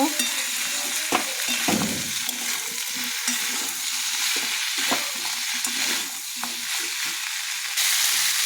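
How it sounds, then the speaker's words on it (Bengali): Fried mixed vegetables being stirred and sautéed in a pan, a continuous loud sizzle with irregular spatula scrapes and a few soft knocks throughout. "সবজিগুলো দিয়ে ভালো করে কষে নেব।"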